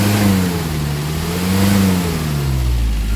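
A car engine in for a smoke belching test revs loudly and close by as someone presses the accelerator, the pitch rising and falling in slow, steady waves over a continuous rumble.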